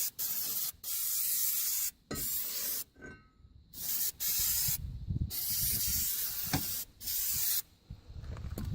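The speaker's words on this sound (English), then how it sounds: "make sure you take brake clean and spray down this silver surface here where the brake pads are going to touch inside and out" Brake cleaner sprays in repeated bursts onto a Subaru rear brake rotor, each loud hissing blast lasting about a second, separated by short gaps.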